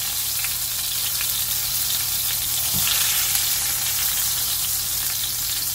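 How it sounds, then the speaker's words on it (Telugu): Chicken pieces for tandoori chicken frying in a pan, giving a loud, dense and continuous sizzle that stays even throughout, with one brief dull knock partway. "అన్నీ ఇట్లనే ఫ్రై చేసి మళ్ళా ఓవెన్లో పెట్టే ముందు మీకు చూపిస్తాం"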